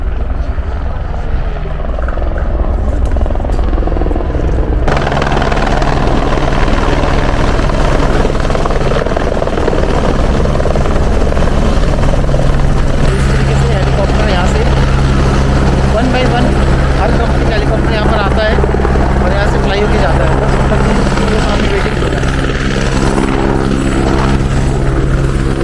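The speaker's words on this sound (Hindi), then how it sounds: "वो सामने हेलीकॉप्टर आ रहा है।" A helicopter approaches the helipad near Kedarnath in the mountains, its loud rotor thump and turbine whine building steadily and growing nearer, with people talking under the noise.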